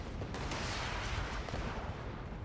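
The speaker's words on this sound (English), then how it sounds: "Dude, that missile launcher is awesome." Missile launcher fire in the Fallout 76 video game: a dense, continuous roar of booming blasts that fills the whole stretch, loud and near, with no talking over it.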